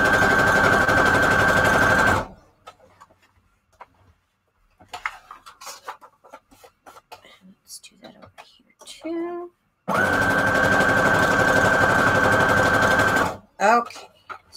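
A sewing machine runs a straight stitch on junk journal pages in two steady, loud whirring bursts of a few seconds each, separated by quiet rustling and handling of paper.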